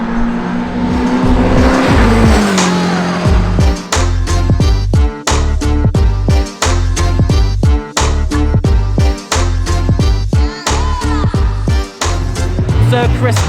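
Praga R1T racing car driven hard, its engine loud and close, revving up through the gears again and again with sharp drops at each shift.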